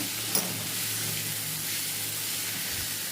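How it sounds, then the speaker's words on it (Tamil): Okra sautéing in a pan while being stirred, a steady soft sizzle and hiss running throughout with a faint scrape near the start, fairly quiet and with no talking. "எல்லா பக்கமும் நல்லா ஒன்றா கிளறி எடுத்துக்கிறணும்"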